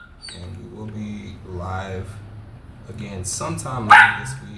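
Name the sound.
dog barking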